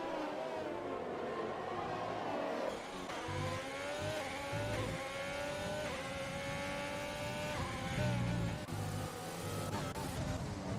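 Grand Prix race cars howl through turn 1 in continuous high-revving engine whine, with pitch rising and falling as cars pass, fairly loud and steady, with a commentator talking over it.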